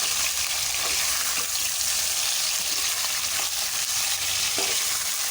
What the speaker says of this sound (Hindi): ये हमने अपनी चिकन इसके अंदर डाल दी है और इसका चम्मच हम घुमाएंगे